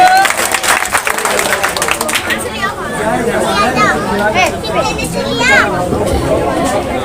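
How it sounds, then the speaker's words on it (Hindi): Crowd at an outdoor Congress candidate's street meeting in a Seelampur lane, Delhi, applauds steadily and loudly, with chatter and babble mixed in and a voice carrying over the clapping throughout. "जोरदार तालियां दे भाई की, जोरदार तालियां।"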